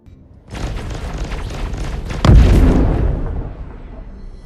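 Missiles launch from a MISC Reliant ship in Star Citizen: a loud, roaring whoosh begins, then a heavy booming burst strikes midway and fades into a rumbling tail, with no talk.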